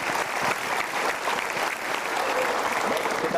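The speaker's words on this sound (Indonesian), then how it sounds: "so kita berikan tepuk tangan untuk mereka bertiga" A studio audience applauds three guests on a motivational talk show, dense and loud, the clapping holding steady from start to finish.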